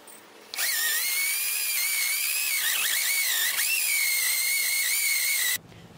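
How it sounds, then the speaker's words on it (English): A loud, steady high-pitched whine of a power drill boring through a plastic ingot cast, running continuously for several seconds before stopping abruptly. "I managed to drill a hole through the bottom of this ingot cast"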